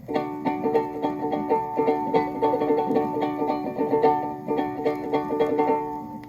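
A ukulele strummed in a steady rhythm of alternating down and up strokes, bright and even, played alone.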